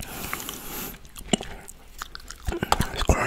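Frozen mandarin orange segments are bitten and chewed up close, with sharp, crunchy bites followed by several wet, crackling chews in an irregular rhythm.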